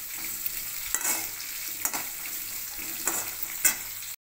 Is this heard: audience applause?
no